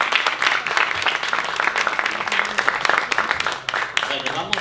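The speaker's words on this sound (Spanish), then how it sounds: "Y un aplauso" Audience at a Spanish conference session on feminist creation clapping steadily, a dense burst of applause lasting several seconds, close and fairly loud.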